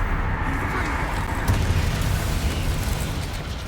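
A Confringo fire spell explodes in Hogwarts Legacy, a loud sustained blast-like roar that carries through the whole moment with no clear pauses and no talk over it.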